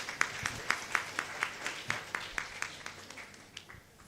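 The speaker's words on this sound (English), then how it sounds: "Another round of applause for them." Faint, sparse applause from an audience at a live entrepreneurship pitching event, with individual claps spaced rhythmically and fading out over a few seconds.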